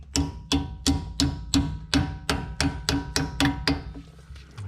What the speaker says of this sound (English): You may need a hammer just to tap it in.